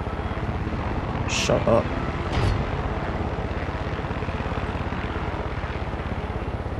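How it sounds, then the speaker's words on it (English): A helicopter in the video game Far Cry 6 gives off a steady, droning rotor and engine rumble throughout, with a couple of brief louder bursts early on and a short spoken voice over it. "you're honking a horn at a helicopter"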